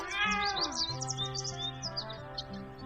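A cat meows once with a long, rising-and-falling cry, close and clear, while chirping birds twitter in the background.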